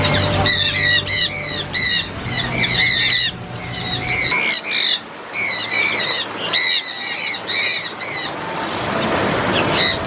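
Many birds squawk and call loudly and repeatedly in a bird habitat at Costa Maya, Mexico, with dense overlapping shrill cries near and far over a low background rumble.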